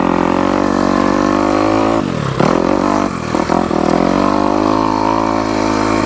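A motorcycle runs a sight lap of the night track at Southern Training Facility & Raceway in Georgia, its engine droning loud and close with steady revving, one sharp throttle change and a few brief dips before settling back into an even roar.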